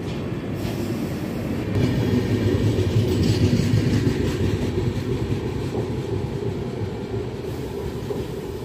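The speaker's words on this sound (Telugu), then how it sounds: "పక్క ట్రాక్లో ఎంజీఆర్ చెన్నై సెంట్రల్ నుండి అహ్మదాబాద్ వెళ్ళే ఎక్స్ప్రెస్ ట్రైన్ అయితే బయలుదేరిపోయింది" An express train departs on the adjacent track at a station near Krishnagiri Junction. It gives a loud, continuous rumble of wheels and carriages for the whole stretch, with faint squealing and clatter and no talk.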